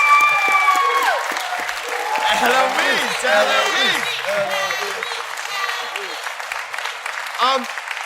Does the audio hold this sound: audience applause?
yes